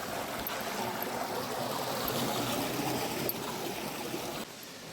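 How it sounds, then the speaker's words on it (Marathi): Steady rushing water roars continuously, like the Marleshwar waterfall in Konkan, India, heard from nearby, with a broad hiss filling the whole stretch. "एवढा मोठा धबधबा आहे हा"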